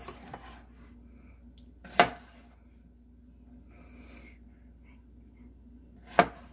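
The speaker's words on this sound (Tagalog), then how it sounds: "Ito, hihiwain na natin ang kamatis." A knife cuts through tomatoes on a board, two sharp, isolated chops about four seconds apart over a quiet background.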